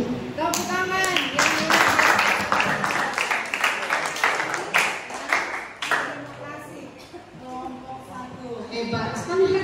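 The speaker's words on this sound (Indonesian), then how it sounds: "Tepuk tangan." Classroom of students clapping after a classmate's presentation, loud close hand claps in an uneven burst that thins into scattered claps, with voices talking and calling out over it.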